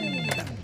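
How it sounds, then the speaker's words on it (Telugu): A telephone rings in a Telugu film comedy scene: a short, bright electronic ring that sounds close and steady for under a second, with no voices over it. "ఫోనే మోగుతుంది"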